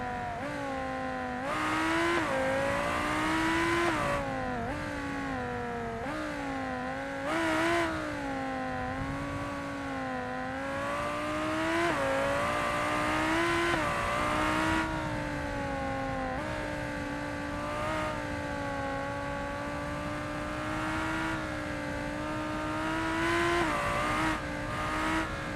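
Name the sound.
super car driving fast in the video game BeamNG.Drive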